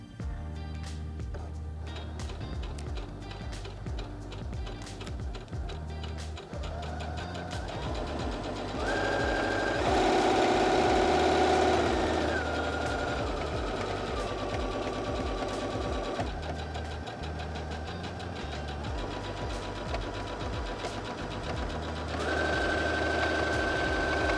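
A Heavy Duty HD6805C sewing machine stitches steadily, its rapid needle clatter speeding up to a fast whir mid-run and then easing back to a slower, even rhythm, close and unbroken.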